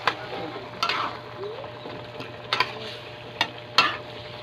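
Spoon stirring chicken curry in a pan with a soft sizzle underneath and a few sharp scraping clicks, close and fairly quiet, no talking.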